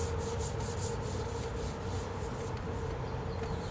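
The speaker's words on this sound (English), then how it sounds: "it just needs a light sanding" Steady, continuous rubbing and scraping of light sanding on a wooden table, even and close, with no pauses and no voices.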